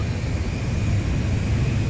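Steady, loud roar of a fighter jet's engine as it flies toward a refueling aircraft in the Ace Combat 5 video game, a continuous broadband rumble with no voices.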